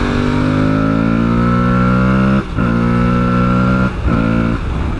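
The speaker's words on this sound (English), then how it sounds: "that induction sound that you get when you romp on it is just really, really sweet." A 2024 Aprilia Tuareg motorcycle engine roars under hard acceleration with a loud induction howl, its pitch climbing steadily. Two quick gear shifts cause brief dips before the revs rise again, close and with no other sounds.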